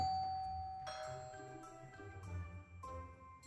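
A doorbell rings in a series of bright chiming tones, several strikes with ringing decay, moderately faint and without voices.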